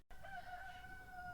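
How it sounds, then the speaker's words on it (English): A rooster crows once in the background, a sustained, fairly faint call heard alone. "The funny part is they probably don't even hear the damn rooster in the background."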